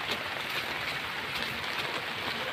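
Heavy rain pours steadily on a Lakatan banana farm during a typhoon, a continuous dense hiss with no pauses and no voices.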